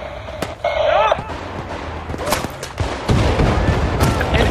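A tank fires on the player in Battlefield Bad Company 2, loud booming blasts and gunfire bursts over constant battle noise, with heavy explosive impacts landing close.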